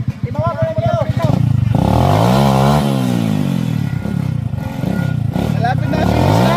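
A motorcycle rides a trail near a finish line, its engine loud and close, revving up and holding a sustained drone with a pitch sweep, while people talk and shout over it.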